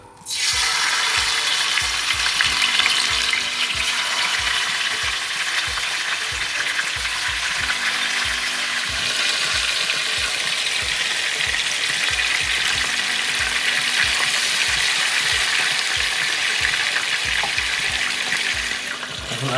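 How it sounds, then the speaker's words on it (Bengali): Steady loud sizzling of chicken frying in hot oil continues throughout, with occasional soft clicks and scrapes and no voices. "এটা আমরা ফ্রাই করে নিই"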